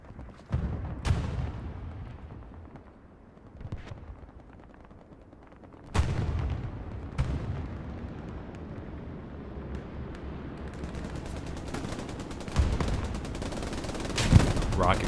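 Gunfire and explosions from the World War II game Hell Let Loose at Stalingrad, with sharp scattered shots and booming blasts. A commentator talks over the sounds at points.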